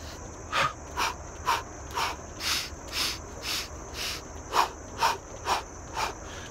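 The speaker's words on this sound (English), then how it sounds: "So you just breathe deeply," A person breathing deeply in a morning energizing exercise, with repeated rhythmic breaths at a steady, fairly quick pace, close and clear against a faint background.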